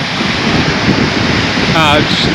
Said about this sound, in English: big wave coming in